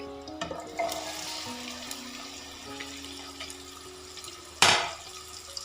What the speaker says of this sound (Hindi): जो बाकी की हाफ़ है वो भी मैं ऐसे ही डाल के इसमें फ्राई कर लूँगी।